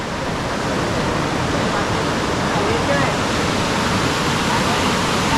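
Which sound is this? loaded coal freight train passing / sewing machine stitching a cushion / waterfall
waterfall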